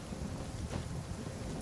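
A thunderstorm in Genshin Impact: steady, dense rainfall hisses over a deep, rumbling roll of thunder that swells briefly in the middle.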